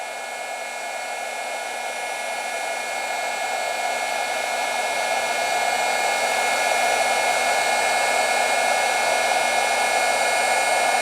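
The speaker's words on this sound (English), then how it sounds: "you just heat this up and you can watch it. It'll shrink the shrink tube." A heat gun blows steadily and loudly for about eleven seconds, shrinking heat-shrink tubing over soldered wires, with a constant whooshing airflow hum and no talking.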